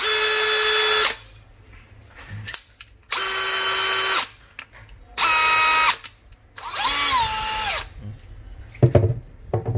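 A repaired power drill runs in four bursts of about a second each, with short quiet gaps between, a steady loud whine with a pitch dip on the last run, followed by a faint clatter as it is set down.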